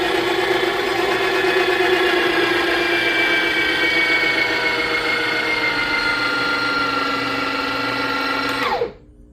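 An espresso coffee grinder grinds a fresh batch of beans at its finest setting, giving a steady, loud, close motor whine that runs for about nine seconds before cutting off abruptly.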